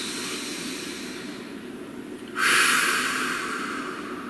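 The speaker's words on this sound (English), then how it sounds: "Please take a nice deep breath." A single deep breath is drawn in slowly against a steady background hiss, then a louder rushing exhale that gradually fades.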